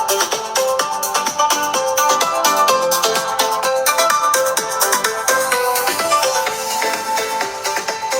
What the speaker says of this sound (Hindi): डुअल स्पीकर्स की आउटपुट भी आपको सुना देता हूं